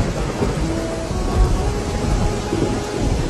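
Steady heavy rain pours with low rumbling thunder rolling underneath, a continuous dense wash of storm noise throughout.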